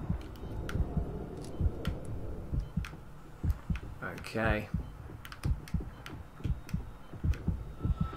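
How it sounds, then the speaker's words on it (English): A pulsing heartbeat sound effect from the video game Dead Space 3 thumps in a steady rhythm beneath game noise and a man's speech, with a rising synthetic sweep partway through. "heartbeat's going"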